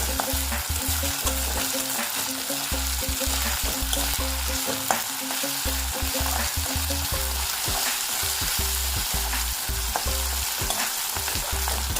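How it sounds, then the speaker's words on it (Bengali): Tomato frying in a pan for home-style haleem gives a loud, continuous sizzle with repeated stirring scrapes and clinks, steady throughout and with no voices. "একটু ছাপলিয়ে নিয়ে আমরা এর মধ্যে দেবো হচ্ছে টমেটোটা।"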